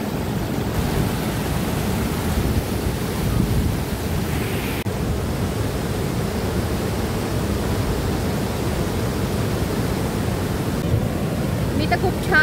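Muddy floodwater surging down at Rihegaon Dam after heavy rain makes a continuous loud broadband roar that stays even throughout, with no speech over it.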